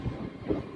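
A MEMU train rolls into Sirpur Kagaznagar railway station with a low rumble and faint wheel clatter, a brief close-up moment with no voices.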